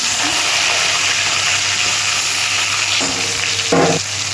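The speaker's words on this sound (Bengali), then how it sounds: "ফোড়নটা ভাজা হয়ে গেছে আমি টমেটোটা দিয়ে" Tomato hits a hot spice tempering in a pan for a cauliflower and potato curry, giving a loud, continuous sizzle and hiss close by, with a brief clatter near the end.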